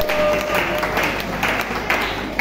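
A church congregation applauds the Lord in a short burst of sustained clapping and cheering, loud and close, with crowd voices mixed in.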